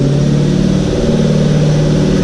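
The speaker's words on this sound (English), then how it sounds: "put it on the dyno, let it rip again" A tuned car engine strains steadily on a dyno run, a loud, constant mid-pitched roar holding at high revs throughout with no pause or talk.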